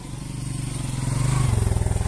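A motorcycle arrives at Flag Point Park in Tarkeshwar, Kathmandu, its chugging engine pulsing steadily and swelling louder as it nears, the pitch shifting as it slows.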